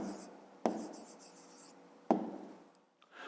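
Numbers written by hand for a fifth-grade maths exercise, a pen scratching softly on paper in short strokes, with two sharper taps as the pen touches down, close and quiet in a still room.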